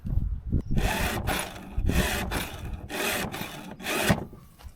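Repeated back-and-forth rasping strokes of a hand file sharpening a chainsaw chain, in steady bursts of about half a second, close up with no talking.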